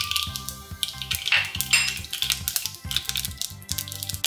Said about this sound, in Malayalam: ഇനി ഇതിലേക്ക് നമുക്കൊരു 1/2 ടീസ്പൂൺ കടുക് ഇട്ട് കൊടുക്കാം.